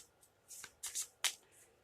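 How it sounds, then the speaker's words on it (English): A short, quiet riffle of playing cards, a few crisp papery bursts up close, ending in a sharp snap. "Another shuffle."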